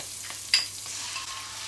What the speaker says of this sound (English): I'm going to add a bit of butter in if I'm going to cook some eggs